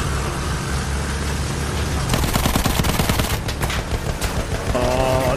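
Dense gunfire in the Battlefield 1 video game, with rapid bursts of automatic fire over a constant din of battle noise and engines, growing busier toward the end.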